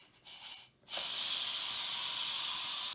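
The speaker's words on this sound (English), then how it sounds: "Let's allow Walter to release the steam" A pressure cooker's steam release valve lets out a loud, continuous hiss for about two seconds, starting abruptly after a short quieter stretch and cutting off sharply at the end, with no talking over it.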